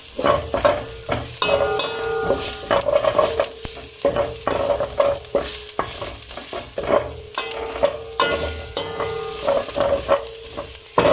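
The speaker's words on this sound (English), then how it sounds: "we will then add in some 3 cloves of garlic, and then stir them well so that they don't get burnt." Three garlic cloves sizzle in a hot pan while being stirred, steady frying hiss broken by repeated scraping strokes of a spoon, close and fairly loud with no talking.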